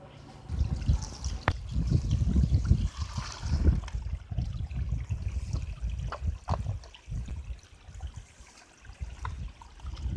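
Clean water pouring into a pesticide sprayer tank, a gurgling, splashing rush that is loudest early and then settles into a softer trickle as the tank fills.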